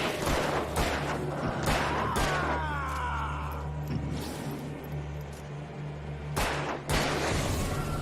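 Gunfire in the Alan Wake video game, with several loud shots and bursts scattered through a continuous game soundscape, including a low steady hum, alongside a brief groan.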